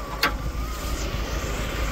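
A 1987 Rover 820 twin cam engine idles rich, as if stuck on choke, a steady low rumble close by with a faint whine and one brief hiss near the start.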